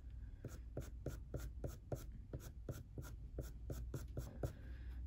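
A soft Caran d'Ache pencil sketches fur onto Pastelmat paper in a rhythmic series of quick, faint scratching strokes, about two per second, heard close up with no talking.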